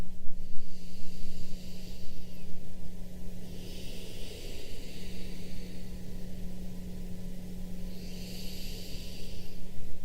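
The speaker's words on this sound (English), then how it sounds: "Two more deep breaths here." Slow, deep breaths during a yoga session, two long airy exhalations drawn out over several seconds, soft and close, with no talking.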